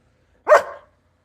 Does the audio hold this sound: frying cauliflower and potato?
no